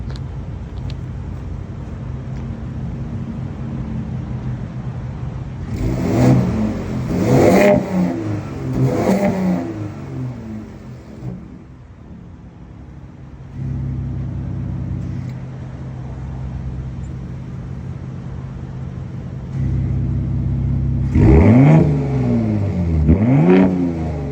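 A Ford F150 Raptor pickup truck engine revs up sharply several times in quick bursts, then settles into a steady idle before revving hard again near the end.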